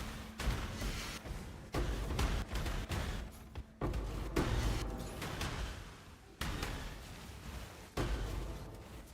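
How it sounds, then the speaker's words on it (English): Repeated heavy booming chaos explosions in the video game Path of Exile, several sharp explosive bursts separated by short pauses, with rumbling low-end decay between hits. "Chaos explosions are the best."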